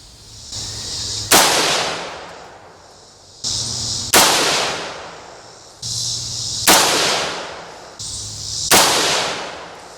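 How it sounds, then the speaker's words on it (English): Rifle shots from a Springfield M1A ring out outdoors, four loud sharp reports evenly spaced about every two and a half seconds, each with a long decaying echo tail and quieter handling clicks between. "That's a sweet shooting gun right there."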